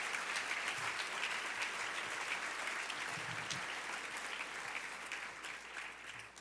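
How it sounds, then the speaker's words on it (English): An audience applauds the students with a steady, fairly distant wash of clapping that holds evenly from start to finish, with no voices over it. "Let's get a round of applause for those students."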